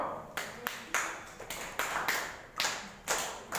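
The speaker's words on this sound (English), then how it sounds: "Give clap for Krishna" Classroom of students clapping for a pupil named Krishna in a 9th-grade English lesson, a series of sharp, moderately loud bursts of applause in uneven rhythm, with no one talking over it.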